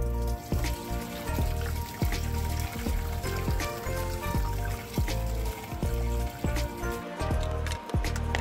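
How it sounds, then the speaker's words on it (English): Water being strained off steamed vegetables, a loud continuous splashing and trickling with wet squishing and occasional clanks of the container, close up and with no talk. "So you want to strain the water off."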